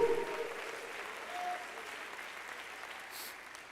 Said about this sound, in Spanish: Dale un aplauso de alabanza al Señor.